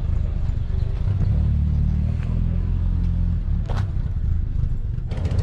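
A 1991 Mercedes-Benz W124 250 on the move, heard from inside as a steady low engine and road rumble with faint rattles, loud and continuous throughout.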